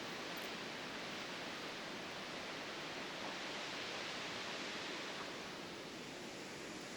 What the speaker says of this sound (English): There's a couple of waterfalls close together. This one happens to be Horsetail Falls.